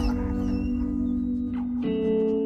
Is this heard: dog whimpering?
yes